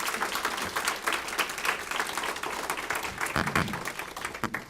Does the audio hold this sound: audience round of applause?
yes